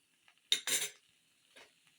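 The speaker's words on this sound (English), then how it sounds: "I don't want to stir it a lot because I don't want to mash my potatoes" A spoon scrapes and clinks twice against a pot of breakfast potatoes and sausage, two close, brief stirring sounds followed by a fainter third, with quiet gaps between.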